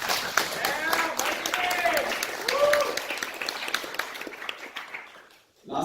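An audience at a university launch event applauds the marketing team, a dense, moderately loud patter of clapping with voices and a cheer over it, fading out before the end.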